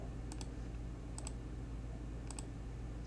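Three quick pairs of computer clicks or keystrokes in Houdini 9.5 software, spaced about a second apart over a steady low hum of room noise, with no talking.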